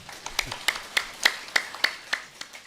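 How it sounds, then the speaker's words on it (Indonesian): Hands clap in a Simalungun-language Sunday church service for the pastor at an anniversary celebration, about ten crisp, evenly spaced claps sounding close and distinct with quiet room tone between them. "Langsung dong dapat tepuk tangan untuk Bapak."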